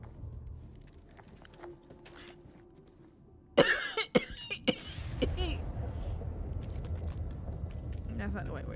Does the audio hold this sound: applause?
no